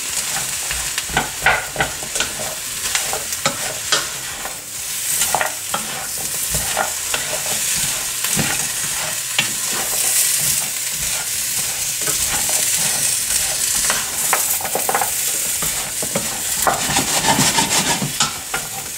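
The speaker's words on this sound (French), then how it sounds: "on remue comme ceci pendant 5 minutes à peu près, 5 à 10 minutes" Onions and vegetables frying in a pan while being stirred, a steady close sizzle broken by repeated scraping and clacking strokes of the spoon throughout.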